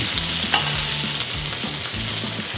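Chicken wings for a wine and pineapple dish fry in a pan with a loud, close, continuous sizzle and crackle, punctuated by light scraping and stirring knocks, no voices present.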